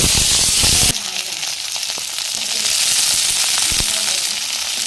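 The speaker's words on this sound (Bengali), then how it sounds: "এরপর বর্বটিকে তেলে ছাড়া হচ্ছে এটাকে ভাজা তৈরি করা হবে" Cowpea beans dropped into hot oil in a home kitchen pan, a loud bright hiss at first that eases into a steady close sizzle with occasional crackles and stirring scrapes.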